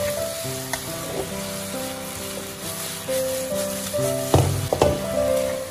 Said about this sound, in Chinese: 把芝麻炒匀炒香就差不多了